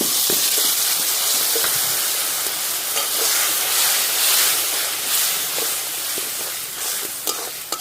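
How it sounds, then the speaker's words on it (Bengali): A spice paste of ground cumin, dried chilli and green chilli with coriander powder and salt fries in oil in a pan for a chicken curry: a steady, loud hiss and sizzle with occasional stirring scrapes and pops. "ভালো করে মশলাটা কষিয়ে নিতে হবে।"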